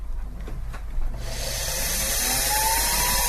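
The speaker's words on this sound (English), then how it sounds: "We have a drill, just like the dentist has" A dental-style high-speed drill starts up and runs steadily, a bright sustained whine with a faint rising tone, close and alone after a quiet moment.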